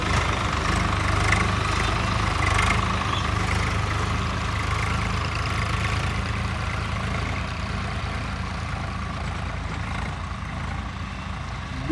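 A Swaraj 855 FE or Massey Ferguson 241 or 1035 tractor diesel engine runs steadily at idle, a loud, close, continuous low rumble with a slight knocking throb and no talk over it.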